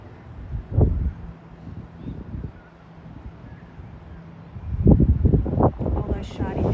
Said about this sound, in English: it's very windy here right now